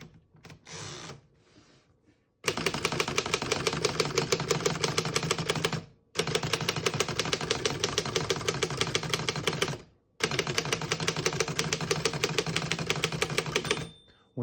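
Rapid, steady mechanical typing on a 1928 Underwood Four Bank portable manual typewriter, dense clacking keystrokes in three long bursts separated by brief pauses, close and loud.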